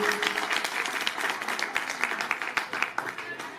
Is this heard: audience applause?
yes